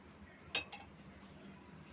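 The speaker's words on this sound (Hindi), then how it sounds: "और 1 चम्मच में काला नमक डाल रही हूँ।" One faint metal clink of a spoon adding black salt to a lasode (Indian cherry) pickle, a single brief tap in a quiet kitchen.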